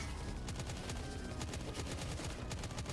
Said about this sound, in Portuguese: e tem a metralhadora